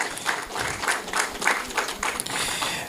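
Audience clapping at a Law Society of Kenya conference forum, a moderate, fairly steady patter of hands with slight pulses, heard from within the hall.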